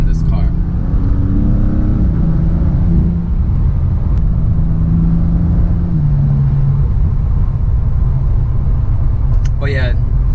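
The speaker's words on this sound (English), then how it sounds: "Right now I'm in Sports Plus, and I think you guys can hear how this engine sounds." A BMW M3 in Sports Plus mode accelerates with a steady, loud, deep engine rumble and drone from inside the cabin, rising and shifting in pitch over ten seconds.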